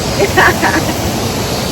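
Rushing water at Kawazu Seven Waterfalls in Shizuoka, Japan, a steady broadband roar that fills the whole clip, with faint voices rising briefly above it.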